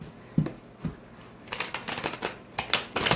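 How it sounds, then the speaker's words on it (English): Slippery tarot cards being shuffled by hand: a couple of soft taps early on, then from midway a dense run of quick riffling, flapping bursts, close and fairly quiet, with no talking. "These cards are always a little tricky to shuffle because they're so slippery"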